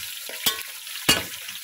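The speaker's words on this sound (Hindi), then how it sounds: "इसको थोड़ा सा इतना फ्राई करते हैं ताकि जो है ना इसकी जो" Mutton pieces fry lightly with spices for Peshawari-style nimkeen gosht, two crisp stirring scrapes cutting through a close, continuous sizzle.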